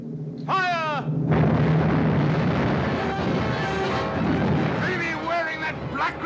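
Ship cannons fire in a pirate battle at sea, a loud sustained roar of blasts and rumbling with cries and shouting voices over the top.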